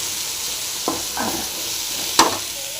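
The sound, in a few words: frying tomato and coriander leaves in a pan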